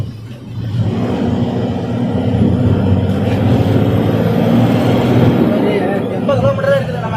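Traffic starting to move again on a road after a long overnight hold, with a loud, close, continuous rumble of heavy engines and passing vehicles building and holding steady.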